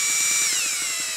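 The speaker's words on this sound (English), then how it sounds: "For cutting this corrugated metal, several years ago I bought this attachment for my drill." A drill fitted with a Malco tin snip attachment cuts corrugated metal, giving a close, steady high-pitched whine with a slight downward drift in pitch over a short burst.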